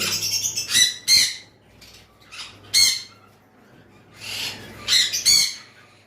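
High-mutation lovebirds at a bird sale give repeated sharp, harsh squawks in irregular bursts, several close together, with quiet gaps between calls and a faint low hum underneath.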